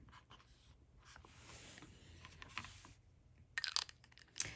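A TWSBI Eco White Rose Gold fountain pen with a medium nib scratches across paper, producing faint, close, intermittent strokes with a few sharper scrapes near the end.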